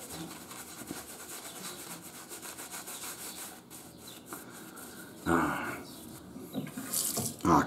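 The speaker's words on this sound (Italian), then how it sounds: "Acqua." Running tap water in a sink during a wet shave, a steady close hiss of flowing water with rubbing and splashing, rising in bursts later on.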